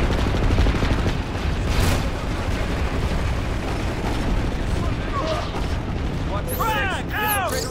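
Heavy battle noise from PlanetSide 2, with a steady barrage of gunfire and booming explosions from frag grenades. Voices call out over the din, and sweeping whistling effects rise near the end.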